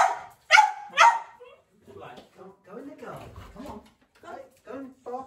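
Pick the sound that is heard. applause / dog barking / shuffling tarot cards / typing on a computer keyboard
dog barking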